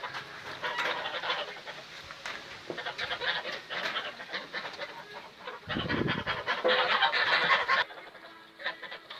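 Three-month-old broiler chickens on a village farm cluck and murmur steadily close by, with a brief low rumble partway through and no talking.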